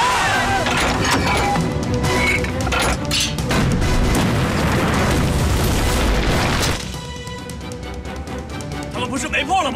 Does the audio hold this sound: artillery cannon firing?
yes